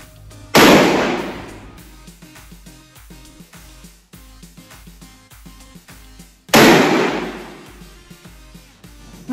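Two sharp, loud shots from a Colt Python .357 Magnum revolver fired at a shooting range, spaced several seconds apart, each with a booming decay, while faint clicks and handling noises sit between them.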